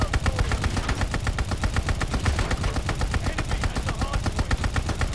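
An MG42 machine gun fires in Call of Duty: Vanguard, a fast, unbroken stream of sharp shots at a steady rapid rhythm, loud and close throughout with no pause.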